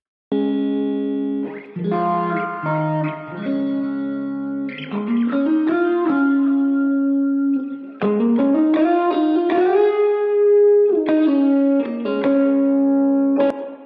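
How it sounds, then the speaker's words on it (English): An electric guitar plays a melodic solo with sustained, bending notes, swirling flanger modulation and delay repeats trailing behind each phrase, loud and alone. "Let's listen to it now, just the guitar solo soloed."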